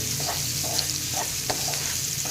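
Chopped onion sautéing in a hot pan for a spicy potato stir-fry, a steady close sizzle and crackle with soft stirring scrapes throughout, no voices.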